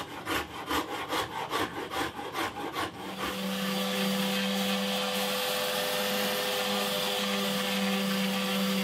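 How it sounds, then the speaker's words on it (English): Orbital sander running steadily on a wooden Telecaster-style guitar body built from scrap offcuts, a continuous loud whirring hum after a few seconds of rhythmic hand-sanding strokes, with no talking. "I'll probably finish off with the orbital sander"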